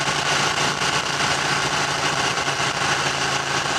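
A Ducati Panigale 1299 S motorcycle engine runs steadily with a dense, continuous mechanical roar at a constant level, no voices over it.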